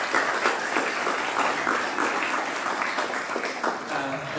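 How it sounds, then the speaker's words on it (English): Applause from a school assembly audience thanking the student leadership team, a steady dense wash of clapping that holds at an even level for the whole stretch with no voices over it. "Can we give them a round of applause?"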